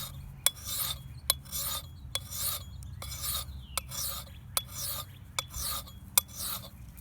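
A file rasps along the blade of a Boy Scout axe, steady back-and-forth strokes about once per second, each ending in a sharp tick, close and quiet with no talking.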